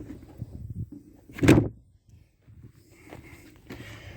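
A car door handled at a wrecking yard gives one loud, sharp thump or latch clunk near the middle, with quieter rustling and movement before and after.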